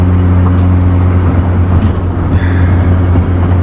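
A Dodge Viper ACR engine under acceleration, a loud, steady low drone heard from inside the car, rising slightly as it pulls with no talk over it.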